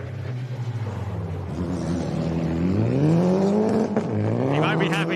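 Front-wheel drive rally car passing on a special stage of the Adelaide Hills Rally at Wattle Flat, its engine rising in pitch as it approaches close by, with a brief brake or gear-change sound and a voice talking over it.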